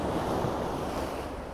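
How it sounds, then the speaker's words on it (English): Ocean waves wash steadily against a rocky Maine beach, a continuous hiss of surf with some wind noise, no voices. "the waves are crashing over there too"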